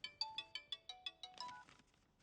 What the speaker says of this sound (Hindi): फोन की घंटी बज रही है।